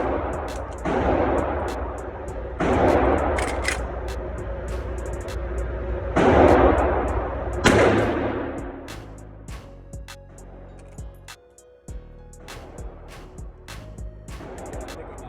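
Several loud rifle shots ring out across an outdoor range, fired from a Henry lever-action in .45-70 Government or .30-30, with sharp broadband cracks and decaying echoes spaced a second or more apart.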